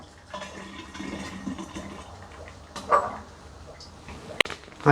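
Liquid is poured into a glass jar while making a strawberry cyser with apple juice, a short splashing pour with a sharper clink near the end, close and alone.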